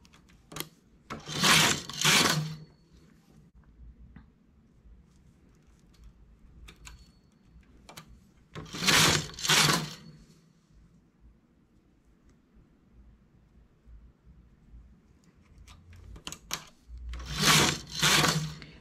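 A domestic knitting machine works a sweater sleeve from the wrong side in bursts of rapid mechanical rattling as the carriage runs across, with quiet clicks and handling sounds between the passes.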